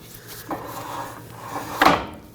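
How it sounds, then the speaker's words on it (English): Faint, steady scraping rub of parking brake shoes lightly touching on a turning wheel of a 2015-2020 GMC Yukon, with a brief louder grating swell near the end. "I actually do hear the parking brake shoes just barely touching the whole time"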